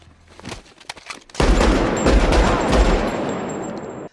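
A compact .45 ACP backup pistol fires at a shooting competition stage: a few sparse shots at first, then a loud, dense, rapid string of gunfire runs close and continuous for several seconds with no talking.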